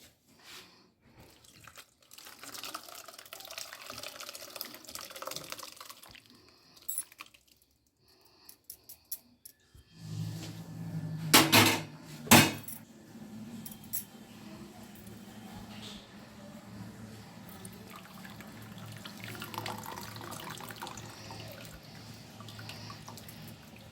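Lemon-curdled milk from one litre is strained into chhana: quiet trickling and splashing, then a louder pour with sharp splashes midway, followed by a steady running-liquid wash, while a voice talks at times.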